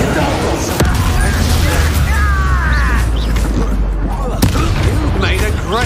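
Confringo blasting spells in Hogwarts Legacy burst as loud booming blasts, two sharp impacts standing out over a dense backdrop of magical combat noise, with voices talking throughout.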